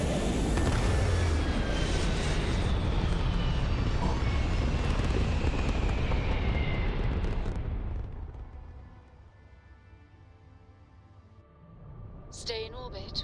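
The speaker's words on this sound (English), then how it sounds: "we just fried that guy on the ground with our liftoff thruster" Spaceship liftoff thrusters roar in the video game Starfield, a loud, dense blast that holds for about eight seconds and then drops away to a quieter rumble, with a few brief electronic tones near the end.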